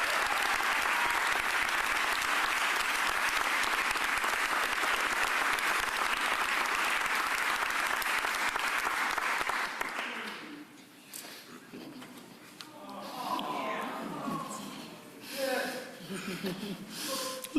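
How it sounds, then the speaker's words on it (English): Loud, sustained applause from a press-conference audience in Philadelphia honoring a sanitation worker, about ten seconds of dense clapping that stops abruptly, followed by scattered claps, murmurs and voices. "I want you to give a super round of applause to Crystal Jacob Shipman, our sanitation"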